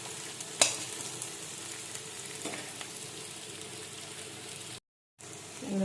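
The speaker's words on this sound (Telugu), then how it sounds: "అలానే మీడియం సైజు ఆనియన్స్ ఫ్రై చేసుకోవాలి." Medium-sized onions fry in a little oil on the stove, giving a steady close sizzle with one sharp spatter early on and a brief silent gap near the end, with no talking.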